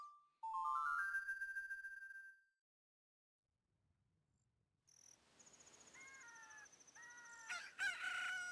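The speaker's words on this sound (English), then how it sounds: "you have to actually wait until you hear the chicken and the wolf" A rooster crows in the video game The Legend of Zelda: Ocarina of Time, a chiptune-like rising call, then a short silence before bright chirping tones and more synthetic crowing notes. No one speaks.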